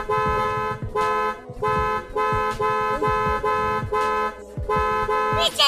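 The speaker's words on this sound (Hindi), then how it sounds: "गाड़ी का हॉर्न बराबर बज रहा है" A brand-new car's horn honks again and again, a loud series of sustained blares, each about half a second long, separated by short gaps, with traffic rumble underneath.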